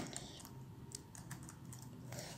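CSS code being typed on a computer keyboard, heard as quiet, irregular clicks of individual keystrokes over a low steady background hum.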